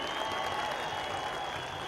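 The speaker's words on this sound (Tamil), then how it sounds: "நீங்கள் உங்கள் கரகோஷங்களை வாழ்வாக அளிக்க வேண்டும்" A conference hall audience at a Kongu community gathering gives sustained applause, a steady, fairly distant wash of clapping that keeps an even level throughout.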